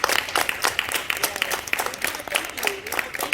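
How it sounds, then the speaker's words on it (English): Audience at a Sis It's You community event clapping in applause, a dense patter of many hands continuing steadily throughout, fairly close and full. "let's just give Megan a round of applause"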